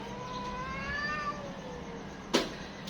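A black cat gives one drawn-out meow that rises and falls, followed by a short sharp thump, against quiet outdoor background noise.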